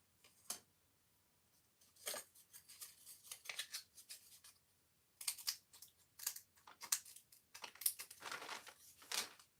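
Scissors trimming paper craft pieces, a run of close, crisp snips and crinkly cuts in irregular bursts with short pauses between, quiet and with no talking.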